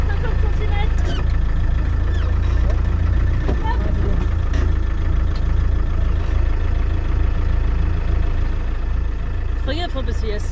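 A car engine runs steadily through the night while stuck in deep mud on a muddy expedition route in Gabon, a continuous low rumble with people talking over it.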